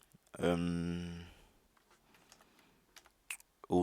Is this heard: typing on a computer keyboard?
yes